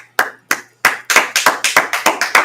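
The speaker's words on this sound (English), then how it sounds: "All right, let's clap it up." A class of Israelite School of Universal Practical Knowledge members claps in a few sharp, close bursts that settle into a rhythmic, accelerating clapping pattern, with no talk over it.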